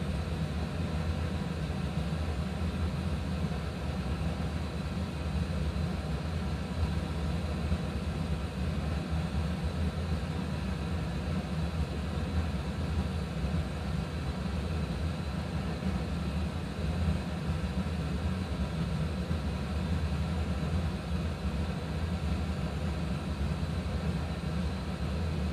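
Steady, loud broadband engine roar of an airliner taking off in a flight simulator game, with a constant low rumble and hiss through the whole stretch and no talk.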